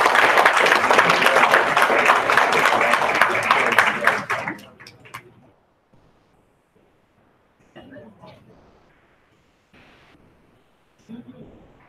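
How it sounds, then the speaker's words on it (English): An audience at a school board of education meeting gives a loud, full round of applause for art students, which fades out after about four seconds, leaving a quiet room where a voice speaks briefly. "Give them another big round of applause."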